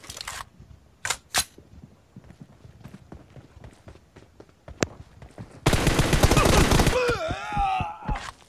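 An M416 assault rifle in PUBG Mobile fires scattered single shots and short cracks, then a loud sustained automatic burst, followed by a whirring mechanical sound and a final pair of shots.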